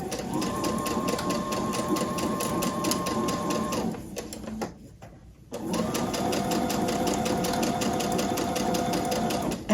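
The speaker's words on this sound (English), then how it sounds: "So I'll put my foot down and I'll sew." Domestic sewing machine stitching an American flag quilt, a loud steady rapid mechanical whirr that pauses briefly midway then resumes, close and without talk.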